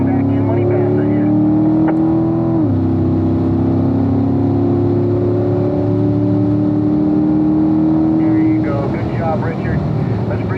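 A 2017 Corvette Stingray C7 Z51 at full throttle on a race track, its V8 engine roaring loudly and steadily with a pitch that climbs and briefly dips as it upshifts, while an instructor speaks over the radio.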